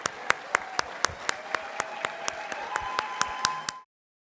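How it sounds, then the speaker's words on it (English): Graduating residents and chief residents receive applause at a pediatrics graduation ceremony: close, evenly spaced claps in a steady rhythm over a soft hum, ending abruptly. "So a round of applause to our graduating residents and chief residents."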